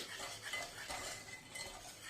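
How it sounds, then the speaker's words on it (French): Waffle batter is whisked in a bowl with a spoon or whisk, making soft, quiet clinks and scrapes in a repeated, uneven rhythm with no talk. "On mélange bien tout le monde."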